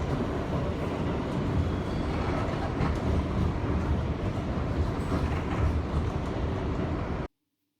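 A New York City subway 6 train running steadily, a continuous loud rumble and rattle of the car with faint clatter throughout, cutting off abruptly near the end.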